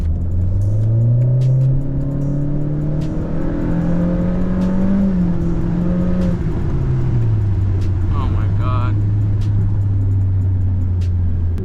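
A car engine hums loudly and close, its pitch climbing and easing as it revs, then settling into a lower steady drone, with a voice speaking over it.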